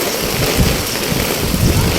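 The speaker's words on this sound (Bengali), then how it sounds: "যে বৃষ্টি পড়ছে, আমি বৃষ্টিতেই বেরিয়ে পড়েছি।" Rain pours outdoors on an empty road, a dense, loud, steady hiss with low wind rumble buffeting the microphone throughout.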